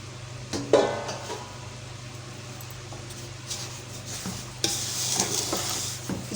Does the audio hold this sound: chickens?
no